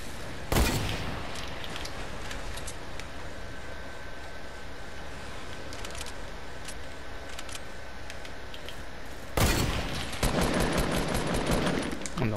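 Fortnite sniper rifle gunfire, two loud booming shots several seconds apart, each with a long reverberant tail over continuous game noise.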